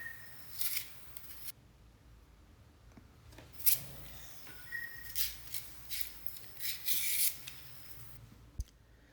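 Yam and green plantain being peeled with a knife in a home kitchen, a series of short scraping and rasping strokes in irregular bursts separated by quiet pauses, close up.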